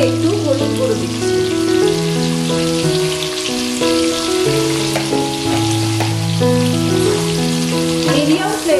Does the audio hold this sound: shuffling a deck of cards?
no